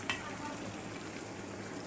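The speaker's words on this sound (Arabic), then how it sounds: "وهنا الطماطة صعدتها على النار" Tomatoes fry on an electric hot plate, giving a faint, steady sizzle throughout with no voices over it.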